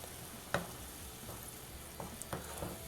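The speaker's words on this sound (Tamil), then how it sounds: "இதோட பச்சை வாசம் போகிற வரைக்கும் இதை நம்ம நல்லா வதக்கிடணும்." Mint paste frying in a pan for mint chicken curry, with a low, continuous sizzle and occasional soft stirring clicks and scrapes, one sharper knock early on, and no talking.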